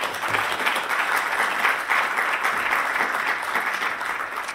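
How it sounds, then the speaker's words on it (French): Sustained applause from a conference audience fills the room at steady, dense volume, many hands clapping together without a break before thinning slightly toward the end. "plaisir d'accueillir sous vos applaudissements Philippe De Bruyne"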